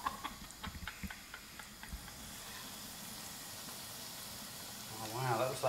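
Breaded chicken pieces sizzle in hot frying oil with a steady hiss and crackle, rising louder near the end, while people talk over it.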